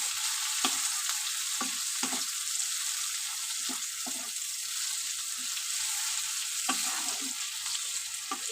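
Eggplant slices with neem leaves fry in a pan with a steady, loud hiss of hot oil, punctuated by occasional stirring knocks and scrapes, close up and without talk.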